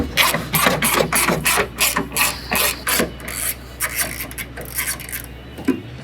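Ratchet wrench loosening 10mm headlight bolts on a 2007-2013 GMC Sierra 1500, a close, steady series of rapid clicking pawl strokes in bursts, with a low mechanical hum underneath.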